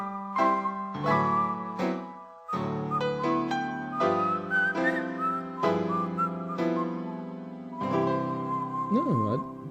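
Someone whistling a melody in a song, a clear wavering whistled line woven through the music with orchestral and vocal parts around it.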